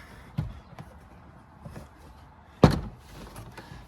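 Plastic trim clips on a Toyota Venza door panel popping free as the panel is pried off, giving two sharp, close snaps with quieter knocks between them and no talk.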